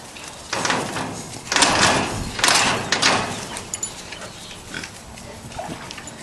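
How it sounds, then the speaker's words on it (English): Pigs grunt and squeal in several bursts close by, with some clattering in between. "You guys want to check out the pigs?"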